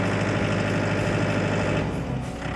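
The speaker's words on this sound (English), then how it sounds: "Turn the key, allow just a moment for the glow plugs, and then fire the tractor up" A small diesel engine of a Mahindra 16 Series compact tractor runs steadily at a low idle, a continuous rumbling chug close by with no talking.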